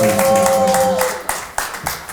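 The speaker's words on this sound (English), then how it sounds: "Y'all clap it up, please." A live podcast audience claps briefly after being urged to, a short burst of hand claps with sharp individual claps trailing off, following a voice and sung tone at the start.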